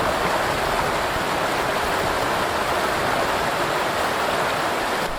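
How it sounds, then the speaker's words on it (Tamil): A river runs strongly in full flow, a constant loud rushing wash of water heard close up, even and unbroken from start to finish with no one speaking. "பாருங்க எவ்வளவு தண்ணி போகுது பாருங்க"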